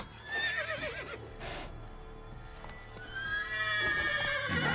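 A horse in The Witcher 3: Blood and Wine whinnies several times close by, with clip-clop of hooves and snorting layered underneath, building louder toward the end.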